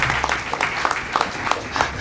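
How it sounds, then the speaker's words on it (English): An outdoor crowd at a county Envirothon in Croton Point Park applauds itself, brief moderate clapping from a modest group with distinct individual claps over a low background rumble. "So give yourselves another round of applause for being here"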